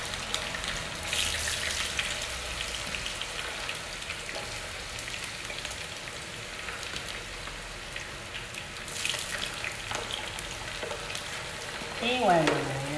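Sausage sizzles and spits in very hot oil, a steady crackling fry with sharp popping bursts, heard close up as a voice speaks faintly over it.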